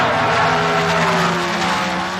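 Drag racing cars at the 1977 NHRA Summernationals launching off the starting line, a loud, close engine roar with rising pitch over about two seconds.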